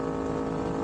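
Yamaha MT-03 with its 321cc engine and aftermarket exhaust, held at a steady high rev that gives a loud, continuous buzzing drone with dense harmonics and no break, close to the bike.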